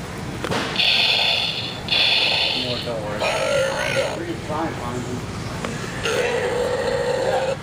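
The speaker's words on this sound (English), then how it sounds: "He burped." A person burps at a fast-food drive-thru, short throaty bursts mixed with people talking and laughing close by, over steady vehicle and background noise.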